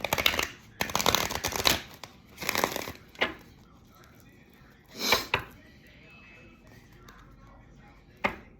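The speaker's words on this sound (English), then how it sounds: "These cards is new, y'all, so it's so hard to shuffle them" A new, stiff tarot deck being shuffled in several quick riffling bursts, each about a second long, with short pauses between them and a final brief flick near the end, close up and fairly quiet.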